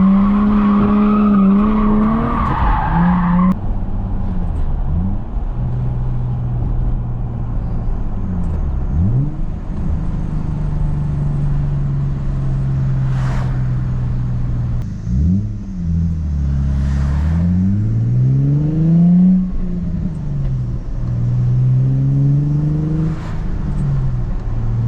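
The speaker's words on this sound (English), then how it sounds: "a POV drive of my 2006 Infiniti" A 2006 Infiniti G35 drift car drives with its engine revving hard, loud and close, pitch sweeping up and down through gear changes with bursts of tire squeal and skidding throughout.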